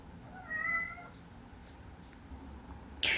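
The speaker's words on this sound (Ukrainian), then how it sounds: "Кіт не дає мені знімати, бо він то хоче до мене, то хоче вийти щось." An indoor house cat gives a single clear meow near the start, moderately close and fairly quiet over a low background hum, followed by faint rustling and a brief sharp noise at the end.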